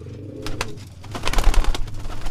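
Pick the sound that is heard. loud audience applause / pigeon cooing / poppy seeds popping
pigeon cooing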